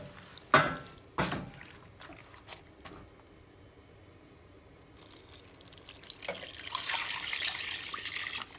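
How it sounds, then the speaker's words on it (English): Water pours into a pot of tortilla soup made with Trader Joe's mirepoix. A couple of sharp knocks come first, then a quiet pause, then a steady, rising gush of liquid near the end. "we're going to add 6 cups of water and then simmer for about 20 minutes on medium heat"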